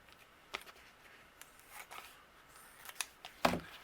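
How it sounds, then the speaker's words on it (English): Scissors trim a piece of Simon Says Stamp foam for a card in a few quiet, close snips, the last one the loudest, with no talking. "using some of my Simon Says Stamp foam, I'm going to trim down a piece to fit behind here"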